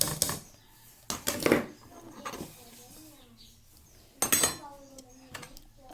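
Chopped pork sisig with onions stirred in a pan: a metal utensil clanks and scrapes against the pan in a few sharp bursts, with quieter stirring and a voice talking between them.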